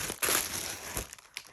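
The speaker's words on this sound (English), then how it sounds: "my pen does not want to cut through this Amazon wrapping" Amazon plastic mailer wrapping crinkles and crunches as a pen is forced through it, a few loud rustling bursts up close with short quiet gaps between.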